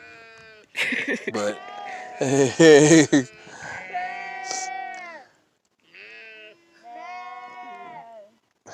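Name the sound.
sheep bleating on a sheep farm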